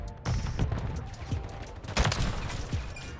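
KATT AMR rifle gunfire in Warzone 3, a few sharp shots in quick bursts over a busy game background, with a player talking faintly.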